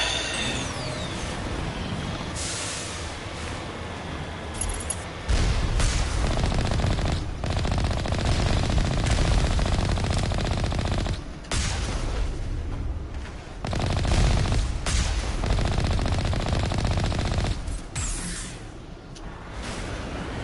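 Automated Alliance turrets firing on a Syndicate base in the video game Mass Effect Legendary Edition, sustained loud rapid bursts of gunfire broken by several short pauses across the whole stretch.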